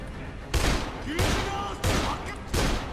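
Gunfire in a Dead Island shootout: four loud bursts of shots, roughly evenly spaced, ring out close over a low game ambience.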